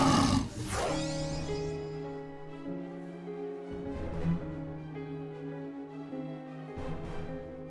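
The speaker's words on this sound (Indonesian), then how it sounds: "Maka aku dapat mengikuti suara auman harimau Aksa" A tiger roars in an Indonesian TV drama: three drawn-out roars several seconds apart over a sustained tonal backing, loud and close.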